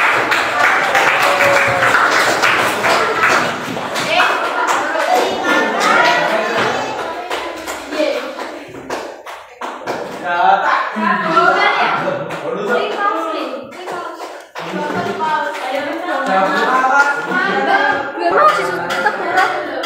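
A class claps together in a long round of applause, with lively voices and chatter mixed in throughout.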